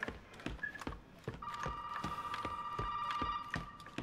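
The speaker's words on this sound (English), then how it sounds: "let's answer the phone here real quick" A telephone ringing inside the house in Resident Evil 7, a faint sustained electronic ring under steady rhythmic thuds of footsteps moving through the room.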